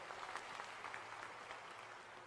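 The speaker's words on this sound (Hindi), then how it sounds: "जरा जोरदार तालियों से उनका स्वागत करो सब मिलके" A crowd at a political rally for Rahul Gandhi claps steadily, a dense, even wash of applause heard from some distance, without speech over it.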